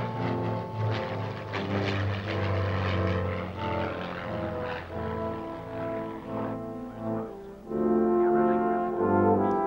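Avro Lancaster bomber's piston propeller engines droning steadily and loudly throughout, a deep multi-engine hum with shifting tones, briefly dipping and then swelling louder near the end, alone with no talk.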